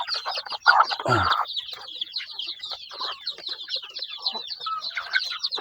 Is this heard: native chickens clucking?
yes